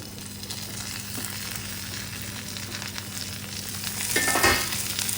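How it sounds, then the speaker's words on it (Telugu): Continuous crackling sizzle of capsicum pieces frying in hot oil, with a low steady hum behind it and a brief stirring scrape toward the end. "ఇప్పుడు ఇందులోనే మనం తరిగి పెట్టుకున్న క్యాప్సికం ముక్కలు వేసేయాలి"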